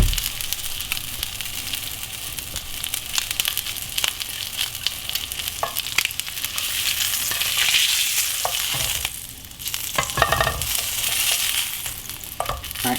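Blackened salmon sears in a hot pan with a loud, dense, continuous sizzle and crackle, steady for several seconds with a few clinks and scrapes near the end, close up and without talk.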